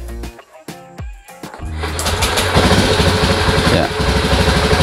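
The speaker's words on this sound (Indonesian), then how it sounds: "Teman-teman bisa dengar ya, motornya sudah hidup." Fuel-injected motorcycle engine running after an injector wire repair, a few sputtering catches at first, then settling into a steady, loud, close idle throughout.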